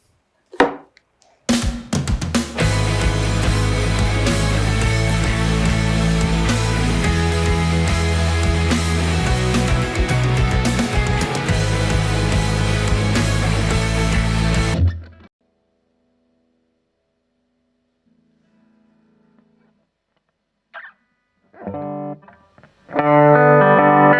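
A heavily distorted signature electric guitar plays loud, dense chords for about thirteen seconds, then stops abruptly, followed by near silence and a short final burst.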